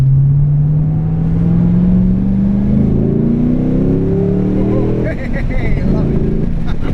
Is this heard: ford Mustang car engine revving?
yes